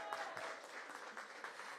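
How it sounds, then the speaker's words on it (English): Brief burst of audience applause, many hands clapping steadily at moderate distance. "So give Rahama a big round of applause."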